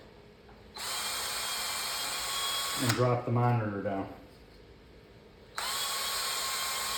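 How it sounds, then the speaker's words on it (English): A power drill whines steadily for about two seconds, drilling angled pilot holes in wood for an arcade cabinet, then a voice speaks briefly before the high drilling whir starts up again. "I'm drilling on an angle so that I have some room to get my drill in there"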